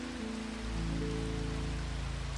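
Gentle rain falls steadily on a surface, a soft continuous hiss with a low rumble, no voices.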